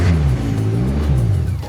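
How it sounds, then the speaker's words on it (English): A Lotus sports car's engine running close by just after starting, a steady loud low idle throbbing throughout with no voices over it. "let's start her up."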